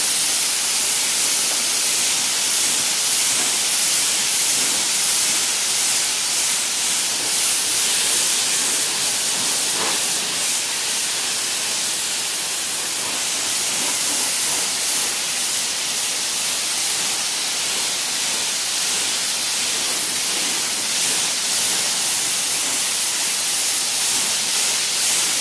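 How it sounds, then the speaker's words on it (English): At a coin car wash, a high-pressure spray wand rinses down an engine bay under an open hood. It gives a continuous loud, broadband hiss that barely changes for the whole stretch. "you're just going to spray all this down"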